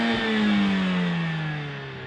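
A 2025 Mercedes-AMG CLA 45 S with a 2-liter four-cylinder and 8-speed dual-clutch revs from outside the car, a loud engine note that swells, then sinks slowly as the revs fall.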